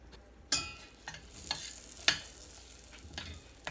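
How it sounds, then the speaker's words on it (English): A spoon stirs butter melting in a pot for Rice Krispies treats, leaving a faint quiet sizzle broken by several sharp scraping knocks at irregular intervals. "y'all probably want to see me stir it"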